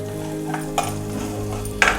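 Onion and garlic frying in oil in a pan for a Maharashtrian pea amti, a steady close sizzle with a few brief scraping stir sounds, no talking.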